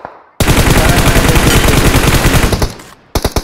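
Automatic gunfire in the BGMI mobile battle royale game: a loud, continuous spray of rapid shots lasting over two seconds, a brief pause, then another short burst.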